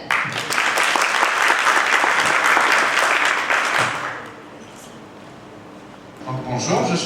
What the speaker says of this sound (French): Applaudir comme il se doit le représentant de Saïdel.